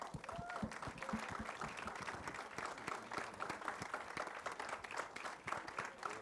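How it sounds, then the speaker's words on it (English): A packed audience applauds the film stars at a Bollywood trailer launch, with dense, sustained clapping filling the hall throughout and a voice faintly heard beneath it. "give them all a big round of applause, ladies and gentlemen"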